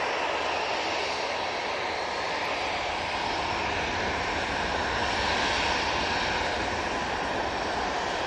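A British Airways Airbus A319 jet departs from Manchester Airport, its engines producing a loud, continuous roar that stays steady and unbroken throughout, with no voices heard.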